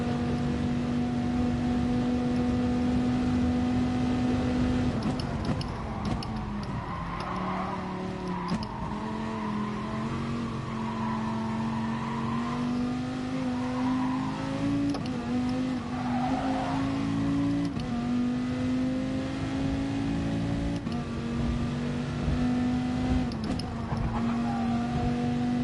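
A racing car's engine in Gran Turismo drones steadily at high revs through a fast lap, its pitch rising and dipping with gear changes and throttle, with faint tire noise, loud and continuous throughout.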